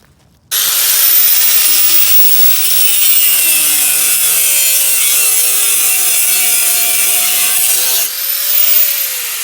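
Cast bronze dagger blades being cut with a tool, a loud, steady rasping and whining cut that runs almost without a break for about seven seconds after a sudden start, easing off briefly near the end.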